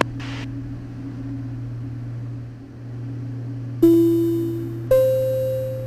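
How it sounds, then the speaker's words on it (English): Autopilot alert tone in a small aircraft on an RNAV approach, sounding two sharp electronic chimes a second apart over a steady cockpit engine drone and hum. "I'm descending, and that's what that noise was, telling us we are in descent in 20 seconds"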